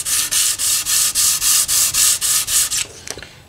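Hand sanding a Fender maple guitar neck with 320-grit sandpaper taped over the fretboard: about ten quick, even back-and-forth rubbing strokes in a steady rhythm, close and fairly loud, ending with a few light handling taps.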